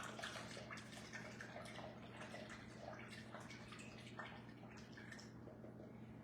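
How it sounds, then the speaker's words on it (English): A paintbrush is swished and rinsed in water, giving a soft, steady sloshing and dripping close by, faint and continuous, with a low hum underneath. "Now I'm gonna wash my brush."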